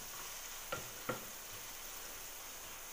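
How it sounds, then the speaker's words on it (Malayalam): Sautéed onions with curry leaves are stirred in a hot pan, two quick scraping strokes cutting through a soft, steady sizzle. "അതിനകത്തോട്ട് ഞാൻ കുറച്ച് കറിവേപ്പില ഇട്ട് കൊടുക്കുവാണ്. അതിനുശേഷം നമുക്ക് ഒന്ന് ഇളക്കി കൊടുക്കാം."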